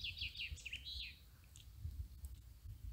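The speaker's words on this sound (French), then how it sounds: "du chant des oiseaux" Birds sing outdoors in summer, a run of quick high chirps and trills close by in the first second, then sparser calls over a steady low rumble of outdoor ambience.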